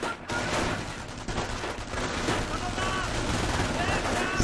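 World War II strategy game battle with MP40 submachine guns and a machine gun in a squad skirmish: dense, continuous overlapping bursts of gunfire and rattling volleys, loud and sustained, with a commentator's voice faintly mixed in.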